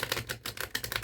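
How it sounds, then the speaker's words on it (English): A deck of playing cards is riffle shuffled during a magic trick, giving a dense, fast flutter of snapping card edges up close that ripples on for about a second. "when we do a riffle shuffle like this"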